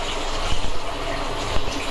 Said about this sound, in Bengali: শুধু জলটা ঝরিয়ে দেবে